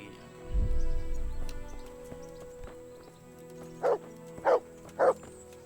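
A dog in Kingdom Come: Deliverance barks three sharp times near the end, evenly spaced and fairly close, after a low rumbling thud and quiet ambient game sound with a steady background tone.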